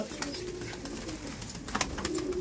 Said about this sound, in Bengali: এই যে আমার চাপকা পায়রা